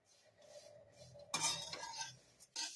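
Roasted coconut being stirred in a hot wok with the gas switched off, giving a dry rattling, scraping clatter that starts abruptly midway, runs for about a second, pauses, then returns briefly.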